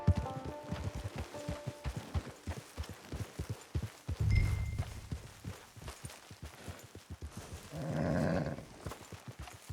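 A horse in Red Dead Online clip-clops at a steady walking rhythm, close and fairly loud, with a few heavier thuds and a brief rustle along the way.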